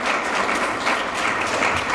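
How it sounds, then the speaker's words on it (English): An audience claps in a dense, even round of applause that holds steady throughout. "I ask her for a round of applause"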